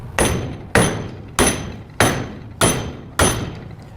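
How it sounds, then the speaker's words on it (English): An 8-pound sledgehammer pounds a welded steel joint six times in a steady rhythm, each blow a sharp, loud metallic crack with a short ringing decay, close by. "So we got an 8-pound sledge."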